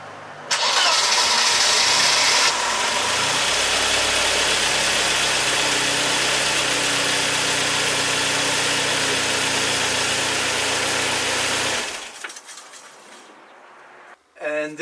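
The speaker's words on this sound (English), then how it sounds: "start the engine up, and maybe we'll hear what it sounds like" A 1.8-litre Mercedes 190E (W201) engine with a K&N air filter cranks and fires up loudly, then settles into a steady idle rumble for several seconds before shutting off.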